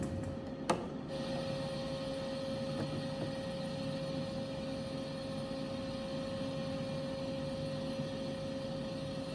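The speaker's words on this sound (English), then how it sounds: "It looks like the press is closing now." A horizontal filter press closes with a steady mechanical hum and a tonal drone, and a sharp clank sounds near the start, continuous and fairly loud with no speech.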